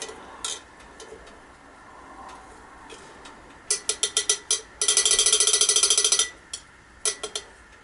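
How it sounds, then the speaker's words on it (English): A small spoon stirs a gold recovery acid solution of HCl and nitric acid in a glass vessel, clinking in short scattered taps and then a fast run of rapid ringing strikes, close and fairly quiet. "So I have a little spoon here. I just want to mix it up just to make sure everything is"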